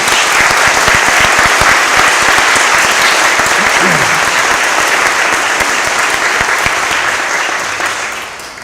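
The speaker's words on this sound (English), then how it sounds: "How about one more round of applause for our award winners?" A school assembly audience applauds award winners at an upper school honors day, dense, loud clapping from a large crowd that holds steady for several seconds before gradually fading.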